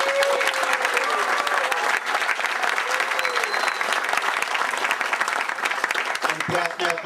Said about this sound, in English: You can hold the applause to the end.